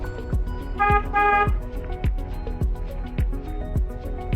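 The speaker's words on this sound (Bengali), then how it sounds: "হর্ন বাজান" A car horn sounds during a driving lesson on a local road in Bangladesh, one short toot near the start among steady low rhythmic engine or road thumps.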